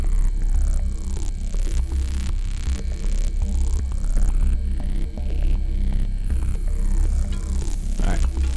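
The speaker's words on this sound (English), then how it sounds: "In Morse code." An alien artifact in the horror video game Void Mine sends out a Morse code signal, a loud, throbbing electronic hum that pulses rhythmically over a heavy, buzzing drone with static bursts.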